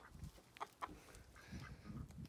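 A broiler hen clucks in short, soft bursts at a distance, with faint farmyard background noise and no talk.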